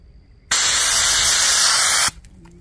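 A single short blast of OC pepper spray is fired at a Mira Safety CM-7M gas mask, producing one loud, close hiss lasting about a second and a half that stops abruptly.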